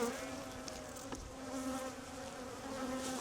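Honey bees buzz steadily around a beehive, a dense continuous drone of many insects close by with no voices.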